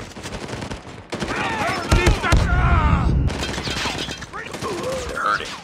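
A sentry gun in a video game fires rapid automatic bursts with sharp, loud cracks, heard amid metallic clatter, explosions and other game effects, with in-game voices talking over the shooting.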